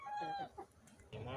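Farmyard chickens and ducks cluck and call, a few short bird sounds near and fairly faint, with quieter gaps between calls.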